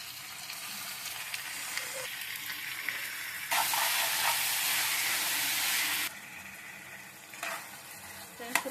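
Chicken pieces go into a hot pan already frying onion, ginger and garlic, and a loud, steady sizzle swells up at once and holds for a few seconds before easing to a softer crackle with stirring.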